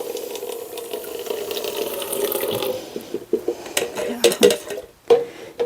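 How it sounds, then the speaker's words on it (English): Makeup brushes are swished and rinsed in a small amount of water, making a soft, close sloshing that gives way to irregular splashes and light clinks. "I'm just curious if I can wash them all in the same water"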